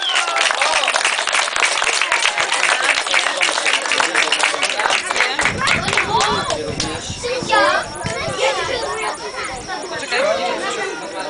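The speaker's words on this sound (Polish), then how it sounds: "Brawa." Crowd applause and chatter for an individual award winner at a youth football tournament closing ceremony, with children's voices and clapping throughout, loud and close, fading into mixed kid chatter partway through.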